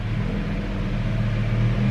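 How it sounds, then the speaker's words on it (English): A very loud car or big pickup truck drives down a street, its low engine rumble steady and continuous for the whole stretch, fairly close and without any talk over it. "somebody is leaving down the street in a very loud car."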